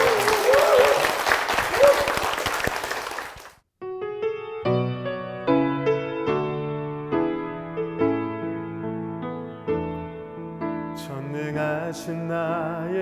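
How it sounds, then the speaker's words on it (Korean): Applause from a church congregation fills the space, loud and dense for a few seconds before stopping abruptly as piano-led worship music begins. "다시 한번 큰 박수 부탁드립니다"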